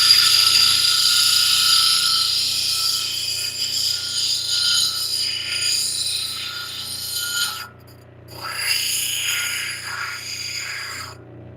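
Flint and larimar stone pressed against spinning 100-grit diamond grinding wheels, a steady bright abrasive hiss over a constant motor hum, briefly easing off near the end before resuming.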